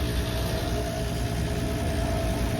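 A new motorbike's engine idles at a petrol stop, giving a steady, even low hum that carries on without a break and without any voices over it.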